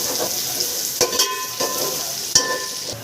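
Pulao masala with mint leaves frying in a pan: a soft, close sizzle broken by a few sharp scrapes and knocks of a spoon stirring, no speech.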